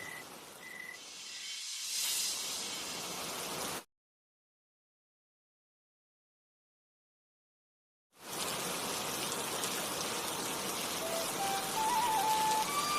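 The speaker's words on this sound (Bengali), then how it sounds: "এখন রাত হয়ে গিয়েছে, বৃষ্টি পড়ছে খুব জোরে" Heavy rain pours at night in a cartoon, a dense, even hiss of falling water that cuts out completely for a few seconds before returning just as strongly.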